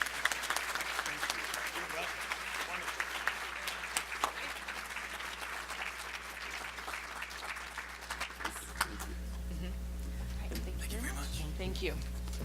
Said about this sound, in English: Let's give another round of applause for all of our award winners.